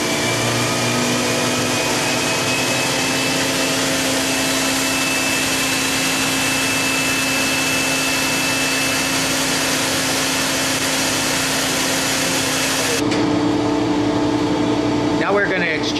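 2003 Okuma MCR-B II CNC vertical machining center with its spindle at 8,000 RPM and ram fully extended, a loud, constant high-pitched mechanical whine over steady broadband hum, with a shift near the end.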